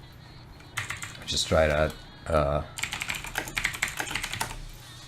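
Fingers tap out a short run of clicks on a computer keyboard, a quick close rattle of keystrokes that continues under and after a brief spoken remark.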